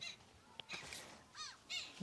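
A flock of birds feeding on corn in a farm field, with a few harsh crow-like caws and calls rising out of quiet outdoor background, fairly distant and intermittent.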